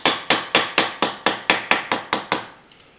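A hammer gently taps the soft sheet metal of a 1981 Chevy C10 short-bed squarebody truck body, about ten crisp, evenly spaced ringing strikes, close and clear, the last few fading quieter, with no talk.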